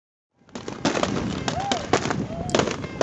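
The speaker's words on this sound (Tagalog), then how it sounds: "The year-round activities in Utqiagvik ends with a fantastic display of fireworks along the Stevenson Street" Fireworks over Stevenson Street in Utqiagvik, Alaska: rapid irregular pops and crackling bursts at mid distance, with a few whistling rockets rising among them, continuous for about three seconds after a silent start.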